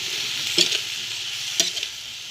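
Pork and broccoli stir-frying in a pan, a steady bright sizzle running throughout with two brief louder bursts of scraping and stirring, close and alone without voices.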